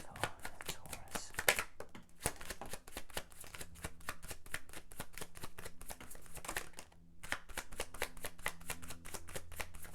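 Tarot cards being shuffled by hand in quick, crisp riffling bursts with rapid repeated slaps, pausing briefly before another card is drawn; close and fairly quiet, with no talking.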